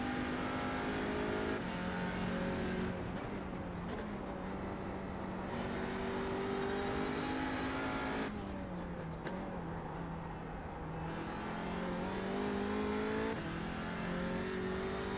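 TCR touring race car lapping Road Atlanta in a racing simulator, engine droning steadily with rising and falling revs through gear changes, close and continuous with no talk.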